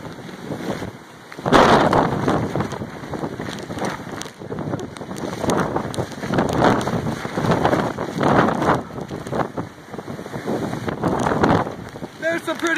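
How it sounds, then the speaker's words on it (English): Heavy, roaring hurricane wind buffets the microphone in surging gusts at the ocean shore, with rushing noise rising and falling throughout, loud and close. "Pretty heavy gusts."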